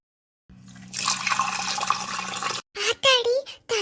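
Water pours steadily for a cold bath in a Tamil animated cartoon, a continuous splashing rush lasting about two seconds, followed by a character's voice speaking.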